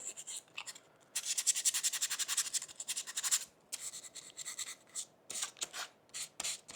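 Sandpaper worked by hand over an IWB holster surface to roughen it: close, rhythmic scratching strokes in quick bursts, a dense run of rapid back-and-forth passes followed by shorter separate swipes, with no talking.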